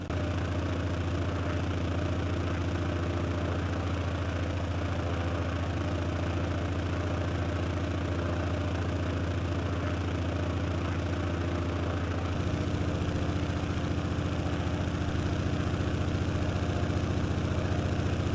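Junkers F13 vintage single-engine monoplane in Microsoft Flight Simulator, throttled back for descent: a steady droning engine hum that continues unbroken, shifting to a slightly lower, altered tone partway through, with no voices.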